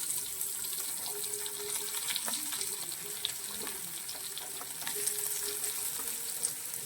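Ginger, green chili and onion sautéing in the same pan used to fry fish, a steady soft sizzle running throughout with occasional scrapes and clicks of stirring, moderately quiet and with no voices.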